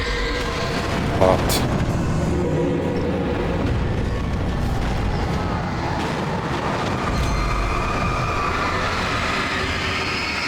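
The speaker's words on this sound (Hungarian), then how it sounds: "Csoda vonat." A train in the video game Alan Wake Remastered rumbles steadily throughout, a loud continuous rolling roar with a brief sharp screech early on, while a voice speaks a word over it.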